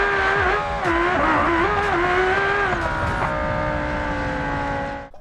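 Scintilla drag car from BeamNG running with smaller rear slicks and an added wing, its engine roaring loud and steady with rising and shifting tones, tire noise underneath, then cutting off at the end.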